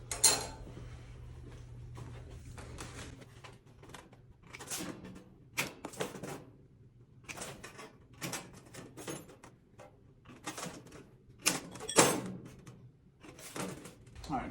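Sheet metal is notched for a duct reducer in a fabrication shop, giving sharp metallic snips and clanks in irregular bursts. A low hum runs underneath at first, and there is no talking.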